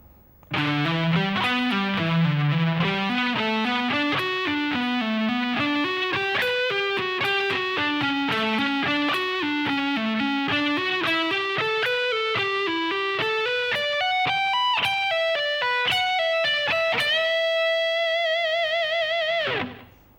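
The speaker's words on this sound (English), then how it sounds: "So that whole lick slow should sound like this." A distorted electric guitar plays a fast, winding funk rock lead lick with bends, ending on a sustained ringing note that cuts off.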